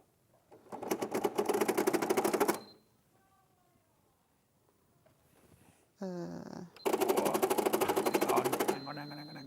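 Domestic sewing machine stitching a Sanderson garden path quilt, running in two loud, steady bursts of rapid needle strokes separated by a quiet pause, with brief clicks and mechanical noises between runs.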